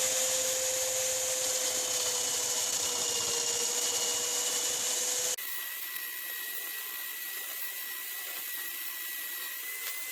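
Electric drill spinning the wheel of a homemade bandsaw while a chisel shapes and crowns its rim, a loud continuous whine with a scraping, rubbing edge that drops abruptly to a quieter steady whir midway.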